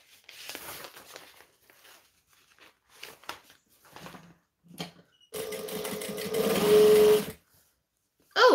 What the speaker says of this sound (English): Currently just going to chain stitch everything because chain stitching is quicker